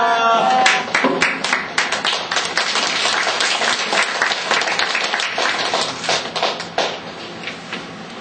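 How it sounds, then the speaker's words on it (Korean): A church congregation breaks into loud, dense applause that fades into scattered rhythmic clapping, with a few voices mixed in. "우리 정태현 사모 나올 때 할렐루야로 박수하기 바랍니다."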